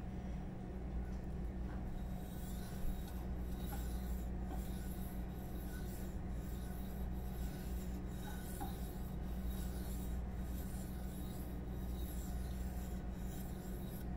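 A knife edge is drawn back and forth over a sharpening stone in steady, repeated gritty rasping strokes, close and quiet, with no talk.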